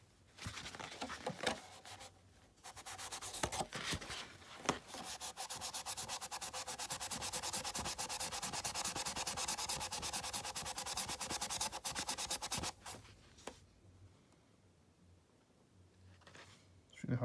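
A melamine foam magic eraser scrubs blacktop residue off a clear Lexan body shell for a 1/16 scale mini Slash RC truck, making a close, steady rubbing and squeaking swish for about ten seconds before stopping.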